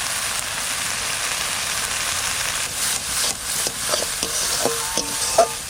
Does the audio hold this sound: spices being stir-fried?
yes